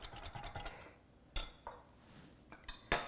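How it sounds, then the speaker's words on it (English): A whisk stirs flour, cocoa, baking powder and salt in a bowl, giving sparse, quiet clinks and taps of metal against the bowl in a few short bursts with pauses between, close by and with no talk. "I'm giving it a really good whisk."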